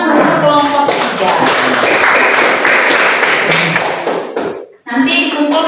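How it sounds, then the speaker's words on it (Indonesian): Applause for a group of participants at a training session on prompt engineering for content creation, a dense burst of many hands clapping in a room, then tapering off abruptly before voices resume. "sekali lagi kita berikan tepuk tangan untuk kelompok 3"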